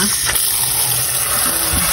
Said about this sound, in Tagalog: Hugasan natin siya ng malamig na tubig.